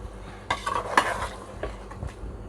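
A spoon stirs yogurt into chicken korma in a metal pot, giving a few scraping, clinking strokes against the pan over a faint sizzle.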